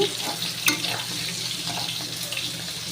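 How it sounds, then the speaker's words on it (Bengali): Potatoes and onion flowers fry in a pan with a dense, continuous hiss and bubbling, close and fairly loud, with a few sharper crackles. "আলু পেঁয়াজ কলি ভাজা হচ্ছে"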